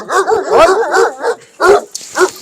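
Several henna-coloured mountain shepherd dogs bark close and loud in quick overlapping bursts, with a few yips and whimpers between the barks.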